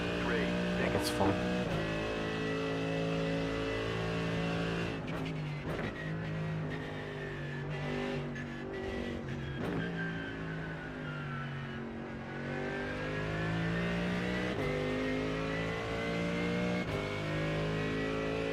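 A race car lapping Suzuka in a racing game hums steadily with a sustained engine drone and gear-change shifts in pitch, while a voice speaks over it throughout.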